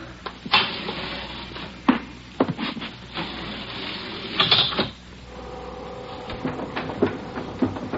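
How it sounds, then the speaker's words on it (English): Elevator sounds in an old-time radio crime drama: clunking doors and machinery rumble with a few sharp knocks and a steady mechanical drone that settles near the end, fairly loud and with no voices. "Let's take the elevator."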